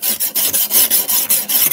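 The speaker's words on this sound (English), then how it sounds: "Diamond file." A 240 grit diamond file rasps across the edge of a garden tool in quick back-and-forth strokes, about nine steady scraping passes, close and loud with no talking.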